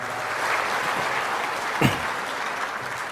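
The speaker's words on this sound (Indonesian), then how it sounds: "Berikan tepuk tangan untuk Bapak Mentan kita." Audience applause for the Indonesian Minister of Agriculture at the 2024 ATR/BPN ministry national work meeting: a dense, steady crowd clapping that fills the hall for the whole stretch, with a brief low thump partway through.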